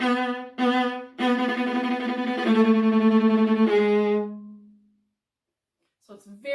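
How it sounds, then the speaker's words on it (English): Violas play the thunderstorm passage from Vivaldi's Spring, sustained bowed string tones with dense harmonics, several strong accented attacks, then a decay into silence and a brief faint return at the end. "the violas in this piece get to play a really exciting part."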